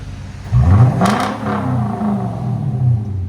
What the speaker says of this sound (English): This is after. DYNOMAX race bullets, muffler delete.